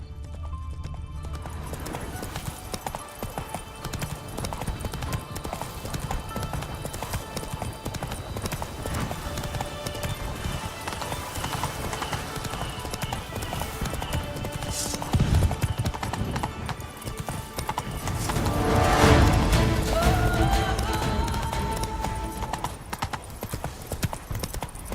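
Roach the horse galloping in The Witcher 3: Blood and Wine, a long run of fast rhythmic hoofbeats close up, swelling louder near the end over game ambience.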